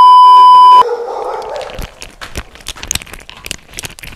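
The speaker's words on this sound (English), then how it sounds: "And we're about to get eaten by dogs." A loud electronic beep cuts off abruptly, then several dogs bark in short, sharp bursts at a fence along a jungle path near Bangkok, irregular and close, with yips and whimpers between barks.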